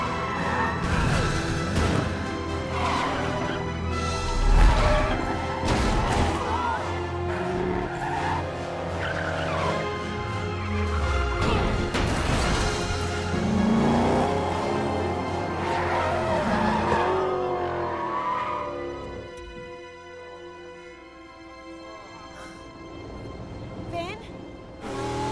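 Animated race cars in Cars 2 skid, squeal their tires and crash during a race, with roaring engines, shouting voices and music throughout, then a quieter stretch near the end.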